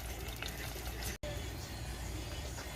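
Green salsa for chicken pozole verde strained as it pours, giving a steady close broadband liquid rush with one brief dropout partway through.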